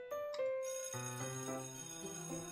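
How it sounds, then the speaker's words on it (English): A school bell rings in the DDLC mod Motorcycle Club visual novel, a bright chiming tone that starts softly and then swells into a sustained, layered ring for a couple of seconds, with no voices. "Before I continue pondering, the bell rings"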